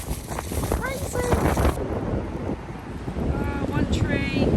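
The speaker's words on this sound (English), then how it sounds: "It is so windy." Strong wind blowing outdoors in Las Vegas, a loud continuous buffeting rumble across the microphone, with a voice talking over it.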